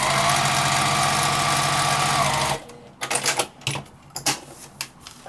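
A sewing machine stitches a seam close to the zipper teeth of a zipper bag: a loud, steady mechanical whir for about two and a half seconds that stops abruptly, followed by scattered light clicks and handling sounds.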